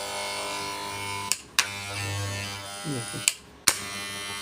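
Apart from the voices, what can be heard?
FYC hair trimmer running after noise repair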